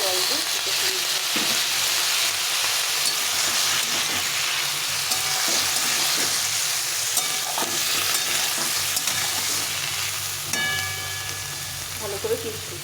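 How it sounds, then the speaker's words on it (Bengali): Spice paste with turmeric and a splash of water sizzles and fries steadily in a pan, a dense continuous crackle with occasional stirring scrapes, close and loud throughout. "তো আমি এখানে এই মশলাটাকে দিয়ে দিলাম, দিয়ে একটু জল দিয়ে ভালো কষিয়ে নিতে হবে।"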